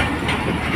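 The Khyber Mail train runs at Rohri railway station with a loud, close, steady rumble and hiss, the rolling noise continuing for under a second with no talking.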